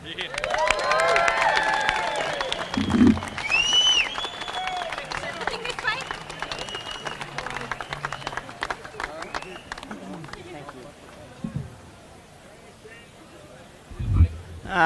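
A racecourse crowd cheers and applauds for jockey Damien Oliver after he wins on Munhamek in his last ride, a steady wash of clapping and cheering from a large gathering, with voices talking loudly over it throughout.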